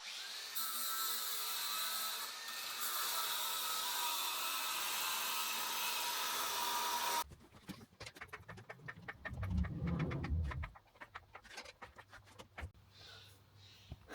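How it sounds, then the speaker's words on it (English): Power drill boring a hole through a steel panhard bar bracket on an FJ80 Land Cruiser, a steady high whine for about seven seconds, then sporadic clanks and shop handling noises. "So I got that hole drilled for the panhard bar."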